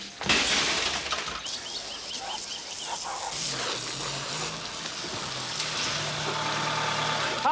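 Glass shatters and objects crash as a place is smashed up during a robbery, loud bursts of breaking followed by continued clatter over a low idling engine rumble.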